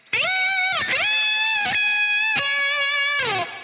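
A fast, distorted electric guitar lead run from a solo, with quick sliding and bending notes in a dense, loud flurry, played alone.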